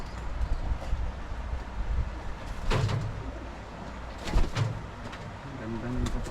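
Pigeons coo softly in a loft among brown checker birds, with a few low throaty calls, and a door or handling noise briefly intrudes.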